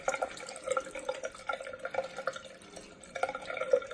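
Hot water runs steadily from a household bathroom tap with weak flow, a soft continuous splashing and trickling that is close but fairly quiet, with no talk.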